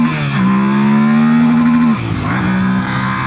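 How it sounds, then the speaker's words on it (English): A 2025 Yamaha Tenere 700 motorcycle with stock exhaust and an ECU flash revs hard up into its rev limiter, a loud close engine note that climbs, holds and bounces off the limiter, then drops and briefly revs again. "that's the rev limiter right there"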